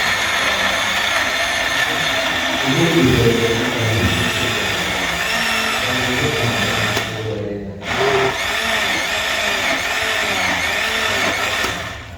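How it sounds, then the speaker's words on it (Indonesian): A kitchen blender runs steadily and loudly for the whole stretch, with a brief dip in pitch and power partway through before it whirs back up. "Oh ini di blender semua terus dimasukkan situ."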